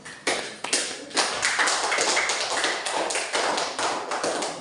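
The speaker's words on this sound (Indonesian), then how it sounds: "Beri tepuk tangan untuk semua kelompok" A classroom of students applauds for all the presenting groups, dense overlapping hand claps starting sharply and continuing steadily loud throughout, with no talking.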